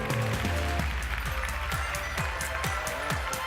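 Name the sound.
audience applause for a contestant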